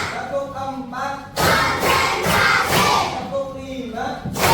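A classroom of pupils clapping in rhythm on their teacher's count, a bursts of loud group claps and voices alternating with a woman's spoken counting between them.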